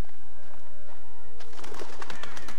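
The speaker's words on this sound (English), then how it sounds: "I'm not scared of those little birds anymore" Birds in the Until Dawn video game coo softly against a quiet tonal ambience, then a busier burst of bird calls and fluttering sounds builds up in the second half.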